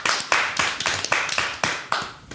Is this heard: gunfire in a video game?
no